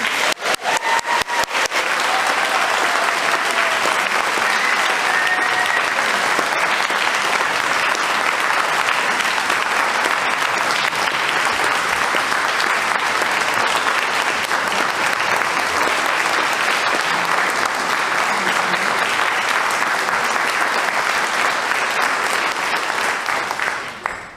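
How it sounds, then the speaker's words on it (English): Sustained applause from a church congregation at a Sunday morning service, a dense steady clapping that fills the room for over twenty seconds before tapering slightly at the end. "let's have another round of applause for Henry."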